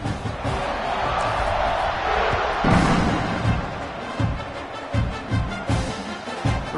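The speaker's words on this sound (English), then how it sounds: "this crowd is buzzing after that last score." Simulated stadium crowd in the College Football 26 video game, Syracuse at Oklahoma, buzzing after a touchdown: a steady broad roar with swelling cheers and scattered thumps, with commentary over it.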